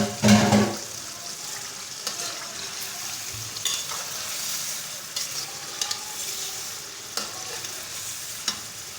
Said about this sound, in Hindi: इसको हम अच्छी तरह से भून लेंगे